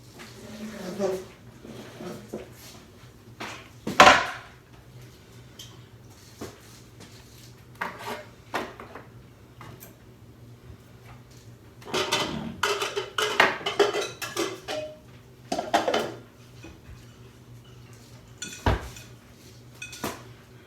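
Kitchen drawer rummaging for a measuring cup while making a Japanese cucumber salad: scattered clinks and clatters of utensils and dishes, with a louder bang near four seconds and busier rattling later, under a steady room hum and occasional talk.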